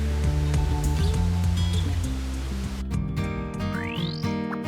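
Steady roaring rush of falling water at Ravana Falls near Ella, Sri Lanka, continuous and dense, with a low hum beneath and a brief whistle-like sweep near the end.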